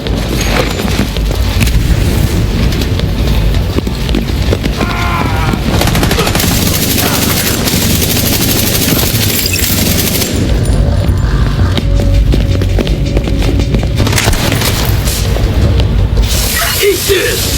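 Frag grenade blasts and rapid gunfire ring out in a Division 2 firefight, with loud booms, dense bursts of automatic shots and game voice lines shouted over the continuous combat din.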